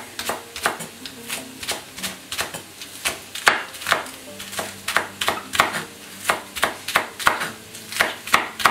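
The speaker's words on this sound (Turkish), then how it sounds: "Taze soğanımızı da doğrayalım içine." Rapid, steady knife chops through green onions on a cutting board, a sharp rhythmic tapping that continues throughout without pause.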